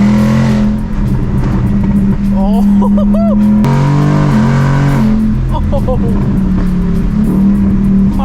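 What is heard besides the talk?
Ford Mustang engine revving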